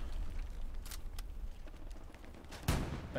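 Bursts of gunfire in the World War II shooter game Hell Let Loose, several sharp shots and rattling volleys over a constant rumbling battlefield backdrop.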